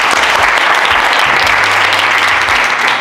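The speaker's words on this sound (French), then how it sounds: "C'est très bien, applaudissez-la." A loud crowd at an excellence day award ceremony in Keur Massar applauds a honoured student. Clapping is dense and sustained throughout, with a low droning hum beneath it.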